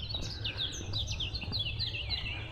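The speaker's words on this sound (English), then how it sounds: "Birds are singing." Small birds chirp and trill in quick repeated bursts close by, singing continuously over a low murmur of ambient noise along the top of the ancient city wall of Pisa.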